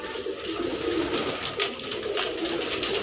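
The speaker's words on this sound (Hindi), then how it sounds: "आज भाइयों कबूतर परेशान हो रहे हैं" Fancy pigeons in a keeper's loft in Trilokpuri, Delhi, cooing softly and continuously nearby, a low burbling murmur against a steady background hiss.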